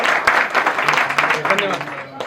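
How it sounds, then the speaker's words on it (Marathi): Guests at a baby shower break into applause, a close burst of many hands clapping that thins out toward the end, with some voices mixed in. "तर सर्वांनी एकदा टाळ्या वाजवून त्यांचं स्वागत करावं."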